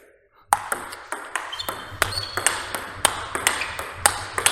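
Table tennis ball hit with a Viscaria blade, a quick run of crisp, bright pings in a regular rally rhythm starting after a short silence, close and fairly loud, with a low background hum and no talk.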